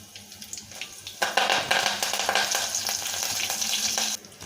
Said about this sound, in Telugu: ఇలా ఇవి వేగుతుండగానే నేను ఒక 4 వెల్లుల్లిపాయలు, ఒక చిన్న అల్లం ముక్క వేసి పోపు ఇచ్చుకుంటున్నాను అన్నమాట